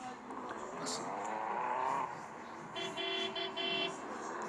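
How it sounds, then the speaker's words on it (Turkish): Two short electronic car horn beeps from a Tofaş Şahin in a driving video game sound in the latter half, over steady game engine noise and a voice talking. "Korna çaldım. Dit dit diye."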